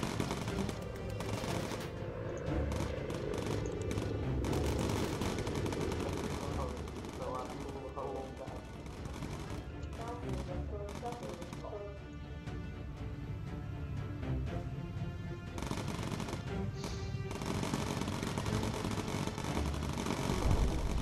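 Machine gun fire from a gunner aboard a bomber in the video game Bomber Crew, rapid rattling bursts repeated over a constant engine drone, with a voice speaking over parts of it.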